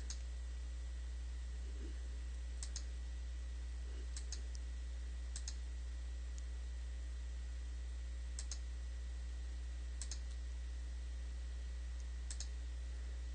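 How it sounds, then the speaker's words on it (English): Computer mouse clicks while drawing in a drafting program, sparse sharp single and double clicks spaced a few seconds apart over a steady low hum, no talking. "And I just keep clicking."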